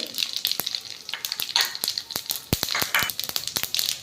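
Whole mustard seeds and cumin sizzle in hot oil with a busy hiss full of sharp crackles and pops, loud and close, with no talking.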